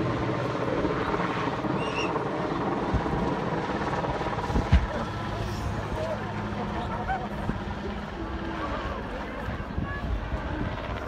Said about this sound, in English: This helicopter dropping a car in Iceland.